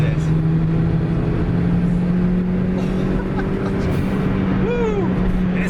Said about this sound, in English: So I got a forged blow-off valve on here.